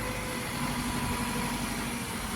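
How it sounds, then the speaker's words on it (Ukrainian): A Jinma 404 tractor fitted with a forced (power) hitch runs steadily at idle, a continuous mid-pitched engine drone with a slight vibrating rumble, close and fairly loud, with no voices. "От такий тракторець з примусовою навіскою 404"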